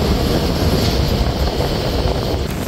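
Onboard the Titumir Express running on the line toward Parbatipur Junction in Bangladesh, a loud, unbroken rumble of wheels on rails fills the carriage with a constant churning roar.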